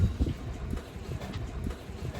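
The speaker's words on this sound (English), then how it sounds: "Did you hear that wind?" Gusty wind buffets and rumbles through the whole stretch, with low roaring swells and no voices.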